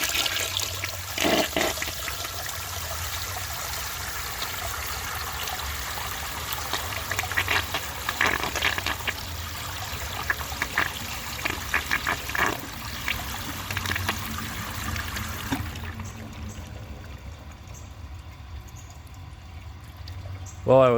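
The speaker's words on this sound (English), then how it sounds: "let's see how it flushes with a clogged siphon jet." A 1973 Eljer Hi-San low-tank toilet with a clogged siphon jet flushes with a long, loud rush of swirling, trickling water that cuts off abruptly near the end, leaving quieter dribbles and a brief gurgle.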